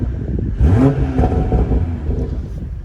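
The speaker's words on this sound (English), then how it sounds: "Nice little aggressive burbles from the factory." The exhaust of a BMW M340i burbles and growls through a short rev, close up and loud, with rough crackling texture and no talking.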